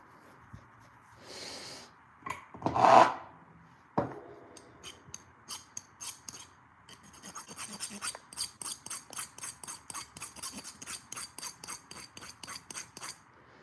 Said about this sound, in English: Just sanding it.